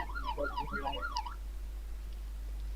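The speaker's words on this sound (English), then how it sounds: "there's a police car outside now" A police car siren wails outside, its pitch sweeping up and down in steady cycles for about a second and a half before cutting off, over a constant low hum.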